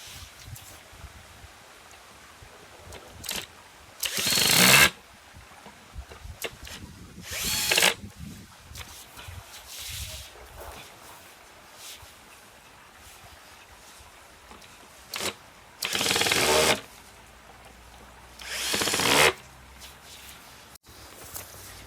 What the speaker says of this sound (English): So all that's left to do is to screw everything together.